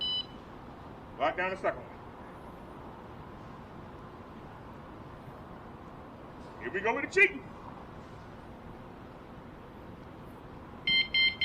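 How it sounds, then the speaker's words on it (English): Short electronic beeps from car alarm systems, with one alarm setting off another: two brief bursts spaced several seconds apart, then a cluster of quick beeps at the end, heard faintly alongside people talking. "The alarm, the second alarm, set off the first alarm."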